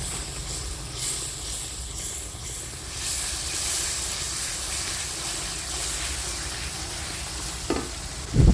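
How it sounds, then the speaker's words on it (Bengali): Ground spices sizzle and hiss in a hot pan while being stirred and fried for mutton curry, a continuous frying crackle with scraping of the spatula and a brief knock near the end. "এই সবগুলো মশলা দিয়ে আবার একটু নেড়ে চেড়ে একটু জোসা নিয়ে এনে তারপর কালারটা সুন্দর করে নিলাম"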